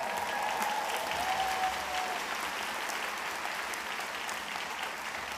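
Steady applause from a large audience at a College Academy class of 2021 commencement ceremony, a dense even wash of clapping that holds throughout at moderate distance, with faint voices mixed in.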